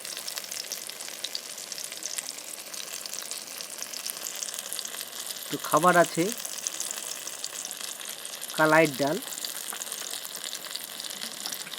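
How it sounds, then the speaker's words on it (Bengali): Brinjal slices frying in a pan give a steady, moderate sizzle throughout, with someone speaking briefly twice over it. "আজ রাতে একটু বেগুন ভাজা করছি বন্ধুরা।"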